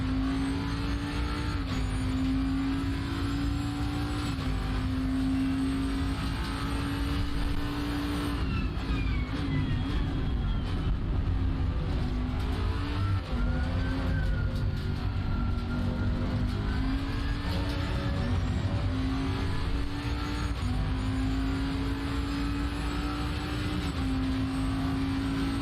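A Bentley race car engine in a racing sim holds a sustained, loud drone, the pitch climbing and dipping as it accelerates and shifts through gears, continuous without talk.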